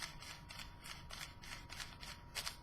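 Repeated scratchy, gritty, sandpapery clicks and grinding as a MoYu speed cube is twisted quickly, close up and steady, with no talking.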